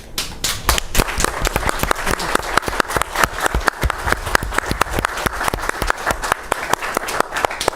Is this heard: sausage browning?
no